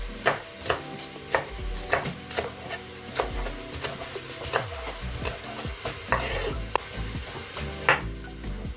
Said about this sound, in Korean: 다음에는 대파 또는 쪽파를 썰어주세요.